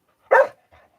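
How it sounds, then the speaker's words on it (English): A single sharp dog bark close by, followed by a faint, softer yelp or whine a moment later. "Stop your barking."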